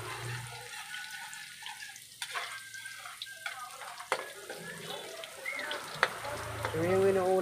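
Garlic frying in a pan for a bitter gourd dish, a close crackling sizzle with intermittent clinks and stirring that grows stronger toward the end.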